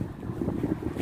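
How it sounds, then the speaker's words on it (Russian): Low, gusty, cool wind rumbles against the microphone in short waves, a steady blustery roar with no voices. "Видите, у нас какой ветер,"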